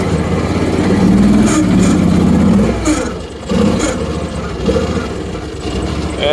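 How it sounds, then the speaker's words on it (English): A heavy diesel tractor loader engine (AGT Industrial KRW23) rumbles loudly, dipping and laboring under load as it scoops into a pile of dirt and sand, with clanks and scraping of dirt, then recovering. "you heard the engine bog a little bit when I ran into the pile"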